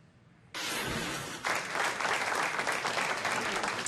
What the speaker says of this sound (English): a standing ovation to farmers in the Everglades agriculture area south of Lake Okeechobee